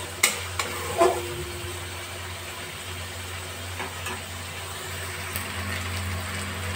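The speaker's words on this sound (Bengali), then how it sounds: "ওই গ্যাসের ফ্লেমটা কমিয়ে 4 মিনিট কষালেই হয়ে যাবে" Brinjal and poppy-seed curry cooking down over a low gas flame, a low steady sizzle with a faint hum and a few sharp clinks of a spoon against the pan near the start.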